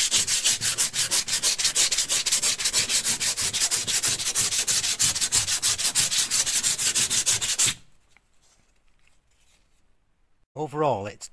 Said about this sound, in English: I'll get my sandpaper out. I'll just give it a light sand.